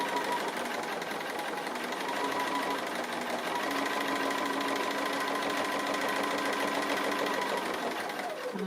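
A sewing machine stitches a tree appliqué on a quilt in a steady, continuous mechanical whir with a fast rhythmic chatter. It runs close and even throughout, then slows at the very end.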